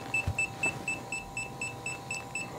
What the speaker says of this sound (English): Press and hold the power button on the aircraft until it beeps